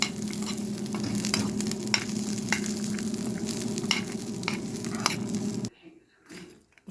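Peanuts stirred continuously in a pan, a close, busy rustling and rattling with faint sizzle, steady for several seconds before it suddenly stops, leaving a few faint clinks.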